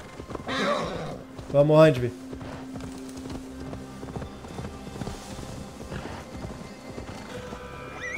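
A horse in Assassin's Creed Valhalla whinnies loudly and then trots off, its hooves clip-clopping steadily through the rest of the scene amid in-game ambience, with a voice speaking briefly near the start.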